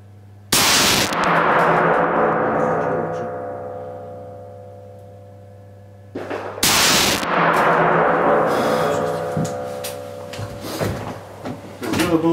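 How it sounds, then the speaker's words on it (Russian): An MP-155 shotgun fires two loud, close gunshots several seconds apart, each a sharp blast with a long ringing, reverberant decay outdoors, followed by faint handling clatter. "Стреляю из МРки."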